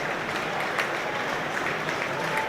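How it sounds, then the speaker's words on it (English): Warm applause rolls through a Premier League stadium crowd at Chelsea versus Burnley as a player is substituted, a steady, moderately loud wash of clapping with general crowd noise throughout. "warm applause, nothing special really for Malo Gusto"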